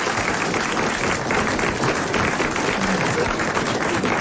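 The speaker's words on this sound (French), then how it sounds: "vous allez d'abord applaudir Madame Petite-Calais, qui le mérite." A studio audience applauds steadily through the whole stretch, a dense, even wash of clapping on a noisy 1983 French radio broadcast.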